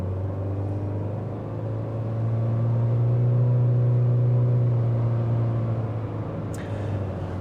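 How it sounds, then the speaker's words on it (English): A 2024 Toyota Corolla Cross Hybrid with a 2-liter engine accelerating gently at under a quarter throttle, a steady droning engine hum heard from inside the cabin that swells slightly mid-pull. "You do hear that 2-liter still making a lot of racket."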